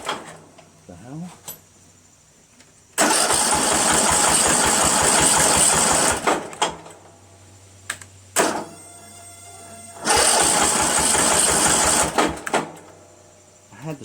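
A Craftsman 13.5 mid rear engine riding mower cranks and runs loudly in two separate bursts of several seconds each, a close rough mechanical roar with a hum between the runs and a voice speaking in the quieter gaps.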